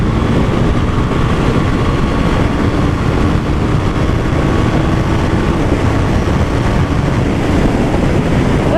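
Steady, loud engine roar with constant wind buffeting, a small single-cylinder motorcycle engine droning as it accelerates, recorded close and without pause.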